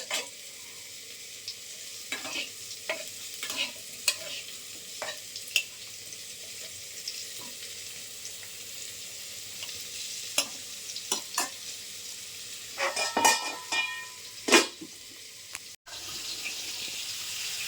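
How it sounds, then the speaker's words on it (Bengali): Potatoes and eggplant frying in oil after a cumin seed tempering, a low steady sizzle broken by repeated spatula scrapes and metallic clanks against the pan, no talking. "সাদা জিরেটা ফোড়ন দিয়ে দিলাম। বেগুনটা দিয়ে আলুটা দিয়ে দিচ্ছি, আলুটা একটু ভাজা হবে"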